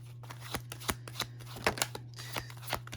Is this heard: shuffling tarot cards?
yes